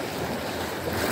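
Small sea waves lap and slosh around a fishing boat, a close, continuous watery wash mixed with wind noise.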